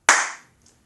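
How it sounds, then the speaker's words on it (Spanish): A single sharp clap of two hands, close and crisp, ringing out briefly before fading into silence, with a faint tiny click just after. "este es el sonido de dos manos aplaudiendo"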